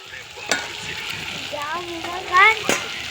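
Eggplant frying in a covered pan for a picnic meal, a close, steady sizzle and stirring with a few sharp clatters and brief voices in the background.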